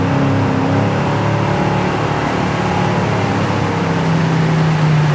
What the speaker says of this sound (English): we're hauling ass in the old Galaxie